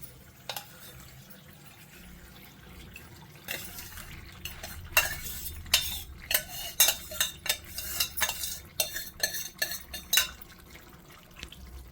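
A spoon clatters and scrapes in a pan while kandha bachali curry is stirred, the clinks quiet at first and then growing into a busy run of scraping taps, with faint running water beneath.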